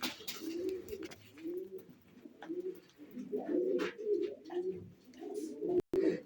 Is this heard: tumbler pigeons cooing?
yes